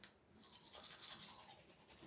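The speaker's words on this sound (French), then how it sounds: "avant de mettre ma brosse à dents dans ma bouche, je la mouille un peu" Toothbrush scrubbing teeth up close, a steady wet, bristly scratching that continues throughout without speech.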